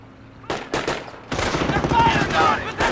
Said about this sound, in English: They're firing on position!